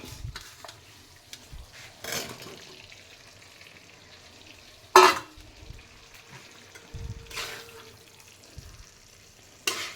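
Mutton pieces frying in oil for a mutton curry, a low uneven sizzle broken by several bursts of stirring and scraping in the pan, with no talking.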